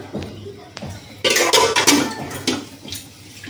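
A little water splashes into a hot pan for Kolkata-style chicken chaap, giving a short loud burst of hiss and sputter with a few utensil clinks before and after.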